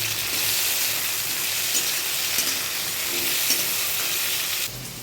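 Ginger paste and tomatoes fry and get stirred in a pan for a pointed gourd curry, giving a steady, close sizzle with soft spatula scrapes throughout.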